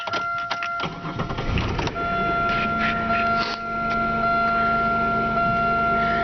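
A 16-year-old car's engine cranks and catches, then settles into a steady idle with a faint electronic whine, heard close from inside the cabin.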